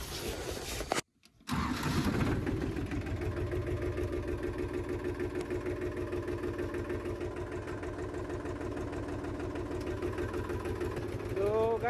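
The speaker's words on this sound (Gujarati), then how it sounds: "આજે ટ્રેક્ટર લઈ ચલો ટ્રેક્ટર સ્ટાર્ટ કરી દઈશ" A tractor's diesel engine cranks briefly, then catches and settles into a loud, steady, rumbling idle close by, revving slightly at the end.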